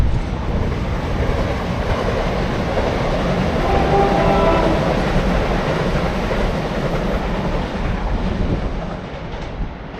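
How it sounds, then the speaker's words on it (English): Train passing close by along the coast at Downhill Strand, a loud continuous rumble of wheels and cars with a brief horn blast in the middle, fading slightly at the end. "Oh, look at the train!"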